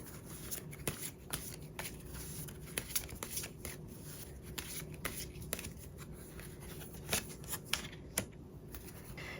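Tarot cards are shuffled by hand in a quiet room, producing soft, close riffles and sharp taps in an uneven rhythm, with no talking.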